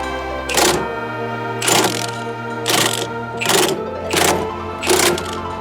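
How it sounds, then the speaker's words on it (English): An impact gun drives extended wheel studs into a Honda Integra hub through a stud installer, in five loud, rattling bursts roughly a second apart over a steady low hum. "Got the good old stud installer here. I should just be able to gun it in."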